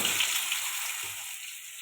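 Potatoes sizzle and fry in hot oil with panch phoron and bay leaf in a pan, a steady, bright crackling hiss that stays close and even throughout, with no talking.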